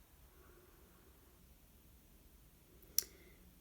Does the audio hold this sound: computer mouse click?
yes